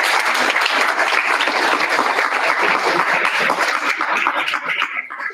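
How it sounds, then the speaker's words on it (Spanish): Students in a university computer architecture class applaud together, a loud, close, dense clapping that holds steady before thinning out and fading near the end. "Un aplauso para ustedes."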